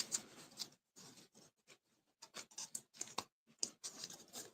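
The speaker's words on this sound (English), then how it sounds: "these are not my scissors for ribbon" Scissors cutting ribbon snip repeatedly in short, crisp bursts with brief pauses between cuts, close and quiet, with no talking.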